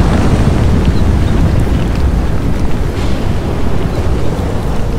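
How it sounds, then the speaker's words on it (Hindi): Stormy sea with fierce winds and crashing waves, a loud, dense, continuous roar of surf and gusting wind that stays steady and close throughout, with no voices. "ठीक 7वें दिन समुद्र में तूफान उठना आरंभ हो गया। भयंकर हवाएं चलने लगी"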